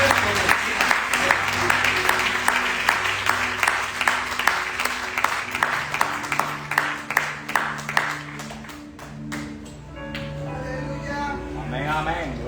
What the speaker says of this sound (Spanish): démosle un fuerte aplauso a la gente